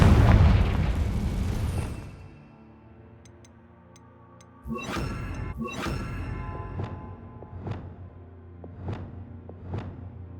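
Fiery blast of the Confringo spell in Hogwarts Legacy: a loud booming burst, then a fading rumble, a second burst and a string of sharp crackling pops trailing off, with no talk.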